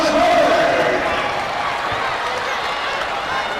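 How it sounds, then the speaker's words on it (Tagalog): A packed basketball arena crowd roars loudly right after a foul and a made finish, a broad sustained wash of cheering that stays steady throughout while a commentator talks over it. "And this crowd fired up"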